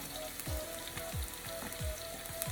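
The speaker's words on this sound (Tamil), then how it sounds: "இப்போ கடுகு போடலாம்" Mustard seeds frying in hot ghee with a few onion pieces, a steady close sizzle with small scattered pops and faint crackles running continuously without talk.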